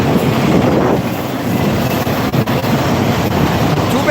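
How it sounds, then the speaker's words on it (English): A CSX double-stack freight train rolls past at the Westfield railfan park, a loud, continuous rumble with rattling cars and some wind buffeting across the microphone. "Here comes a West Brown stack train."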